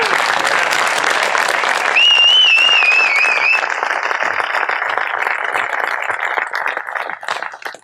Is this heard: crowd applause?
yes